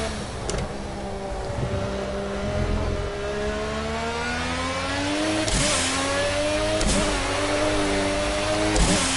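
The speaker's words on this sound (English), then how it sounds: "I do love the noise this car makes." A race car engine in the Project Cars video game during a time trial, revving and rising and falling through the gears, loud and close with sharp shifts and bursts throughout.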